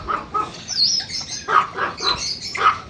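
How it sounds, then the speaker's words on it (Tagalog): Red golden pheasants call in short, high chirps and squawks, several spaced calls over a few seconds at moderate distance with light background noise. "Red Golden Pheasant. Kumikikig na, oh."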